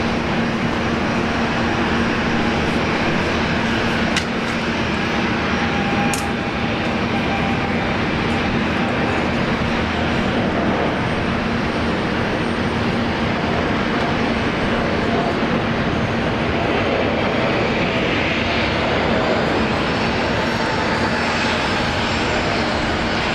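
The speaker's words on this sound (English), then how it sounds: "Always good to have the 787 from Air New Zealand in Brisbane." Air New Zealand Boeing 787 jet at Brisbane Airport, a loud, sustained engine roar with a steady low hum beneath it and a few brief clicks, heard outdoors with no speech.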